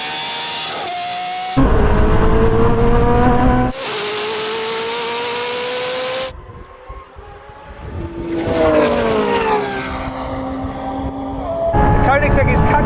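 A Koenigsegg Jesko, a Lamborghini Revuelto hybrid and a 1,000hp BMW M3 drag race, engines roaring loudly with rising pitch sweeps and abrupt gear-change breaks as they accelerate, while someone talks over the noise.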